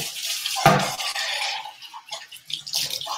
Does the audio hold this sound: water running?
yes